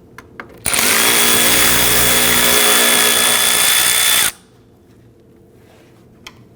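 A power tool spins out T25 Torx screws from the top of a 2009-2017 Volvo XC60 front bumper cover, a loud, close, steady whine lasting about four seconds before cutting off, with light clicks before and after.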